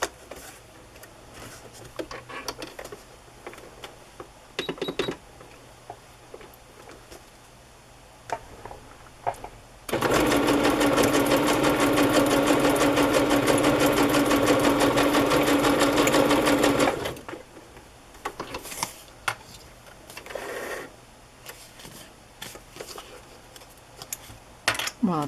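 A sewing machine stitches lace onto the back of a fabric pocket in a steady, loud whirring run of about seven seconds, with quiet handling and small clicks before and after.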